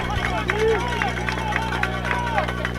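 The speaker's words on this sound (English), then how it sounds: "Crowd getting noisy here for a 3rd down" A crowd of high school football fans at a Hyde Park vs. TMI Episcopal game grows noisy before a third down, a steady roar of voices with scattered shouts and whistles throughout.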